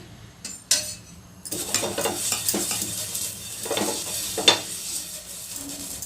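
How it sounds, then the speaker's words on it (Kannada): Set dosa batter sizzles in oil on a hot pan, a steady crackling hiss that builds after a couple of sharp clinks, with occasional scraping and utensil taps. "ಈಗ ಸಟ್ ದೋಸೆ ಹಾಕೋಣ ಸ್ವಲ್ಪ ಎಣ್ಣೆ ಹಾಕಿ"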